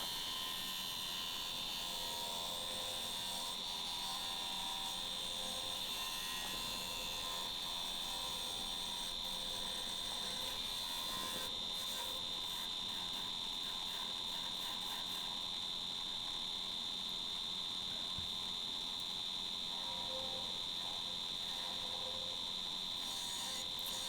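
Spalted hawthorn hollowed on a wood lathe with final passes inside the piece to reach depth, a steady high whine and scraping hum running continuously and fairly close with no voices.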